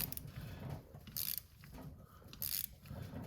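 Ratcheting wrench snugging down bolts on a 7.3 Powerstroke diesel turbo during a rebuild: a few short bursts of clicking ratchet strokes, close up, with no talking.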